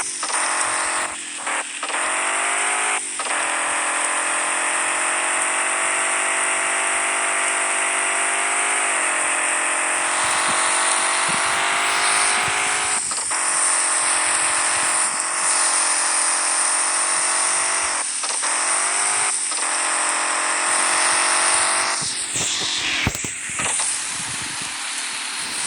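An off-road car's engine in the video game Off-Road Outlaws drones loudly and steadily, with a constant revving tone and brief dips as it shifts or lands jumps.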